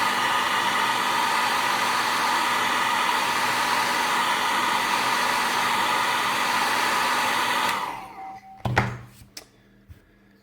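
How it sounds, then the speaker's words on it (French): Hair dryer blowing on a Revell 1/24 Audi R8 model kit, a steady loud whooshing whir for about eight seconds that then stops, followed by a few sharp knocks and thunks of it being set down. "on va laisser un petit coup de sèche-cheveux pour sécher un peu"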